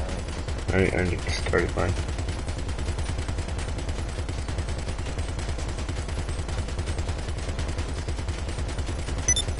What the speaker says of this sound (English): Wait, let me just shoot this one real quick.